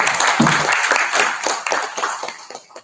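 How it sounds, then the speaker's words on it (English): Audience applause at a DSRL product launch event: a dense, steady wash of many hands clapping up close and loud, easing off slightly toward the end. "today is another person who needs an applause"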